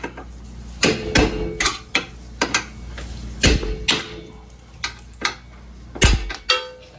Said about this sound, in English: takes a couple of whacks, you can beat them out of there